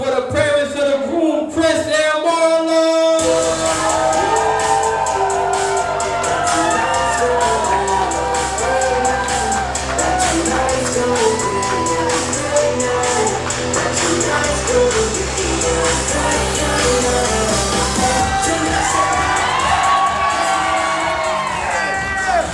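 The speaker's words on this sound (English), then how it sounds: "Put your hands together for the parents of the room, Chris" Guests at a wedding reception shout, whoop and clap in a loud, sustained roar over dance music, with the crowd noise swelling after a quieter opening few seconds.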